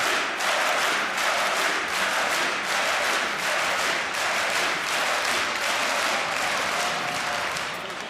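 A huge arena crowd roars and applauds continuously at the Dreamhack Winter 2014 CS GO Major grand final in Jönköping, NiP against LDLC, a dense, loud wash of cheering and clapping that barely dips throughout.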